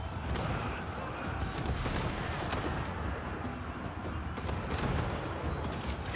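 Long-range grenade launchers fire in a Total War: Warhammer 2 battle, producing a dense, continuous wash of distant booms and crackling gunfire with scattered sharper bursts throughout.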